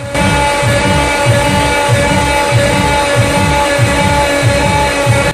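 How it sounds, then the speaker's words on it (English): An EMD SD40 six-axle, 16-cylinder, 3,000 horsepower diesel locomotive engine idles close by, with a steady throbbing rumble that pulses rhythmically under a constant mechanical hum. "SD40 locomotive engine."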